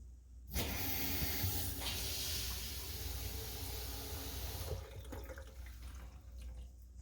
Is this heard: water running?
yes